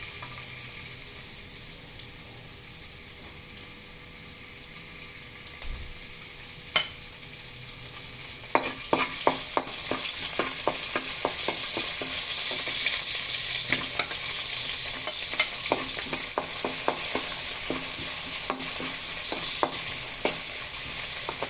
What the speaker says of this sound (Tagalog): So I saute the garlic and the onions.